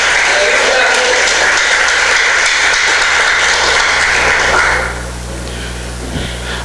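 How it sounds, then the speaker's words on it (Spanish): Loud, dense applause from a church congregation during a Spanish-language service, sustained for several seconds before dropping away to a low hum. "Dale un fuerte aplauso al Señor."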